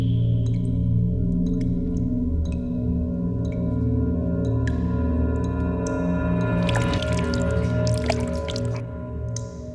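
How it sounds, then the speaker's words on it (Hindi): Water leaks onto a terrace in a film scene, with high chirping drips over a steady low hum and a brief burst of splashing near the end. "पानी लीक हो रहा है टेरेस पर।"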